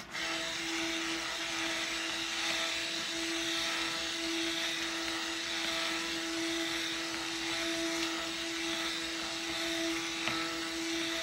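An immersion blender whirs steadily while mixing soap batter, giving a constant motorized drone with a clear steady tone for the whole stretch, with no talking.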